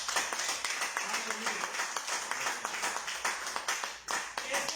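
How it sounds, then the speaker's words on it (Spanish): A congregation at a church service claps steadily and briskly, the dense patter of many hands running the whole time, mixed with voices speaking and calling out over it. "Le damos un fuerte aplauso a nuestro Dios"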